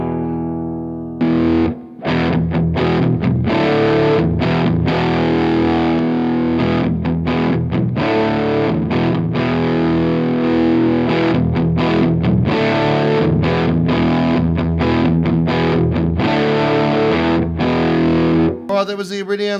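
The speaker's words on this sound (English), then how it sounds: "firstly I'll crank it right up so you can hear how much drive it's got" An electric guitar runs through an EarthQuaker Special Cranker overdrive pedal cranked to full drive into an Iridium amp, playing loud, thick, saturated chords and riffs with brief choppy stops. It ends with a short bright switch-over.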